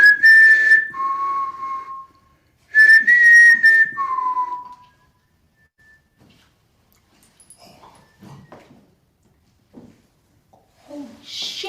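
Whistle-like tones heard on a played paranormal voice recording, two bright rising-then-falling whistles with a lower sliding tail each, followed by faint rustling and quiet murmurs.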